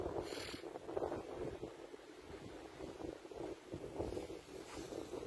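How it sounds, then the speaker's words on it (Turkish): Strong storm wind at Amasra harbour, as a cruise ship docks, buffets the microphone in steady, roaring gusts, with a broad rushing noise and no voices. "Gerçekten çok kuvvetli bir rüzgar var."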